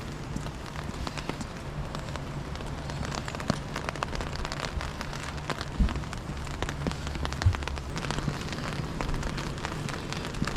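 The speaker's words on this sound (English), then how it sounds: "Don't you find the rain dripping on an umbrella or canvas is quite soothing?" Rain pattering steadily on an umbrella during a walk along the Roman walls of Chester, a soft continuous patter with occasional heavier drips and faint background hum.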